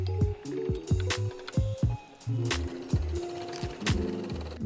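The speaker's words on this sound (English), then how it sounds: "Sew along the sides of the brim where the pretty sides together." Home sewing machine stitching the sides of a fabric bucket hat brim, a close, busy run of mechanical needle clatter in short bursts and stops, with no talking.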